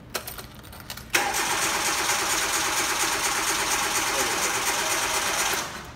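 An engine cranking and then running steadily after a rough start, a loud, even mechanical drone close by that drops off at the end.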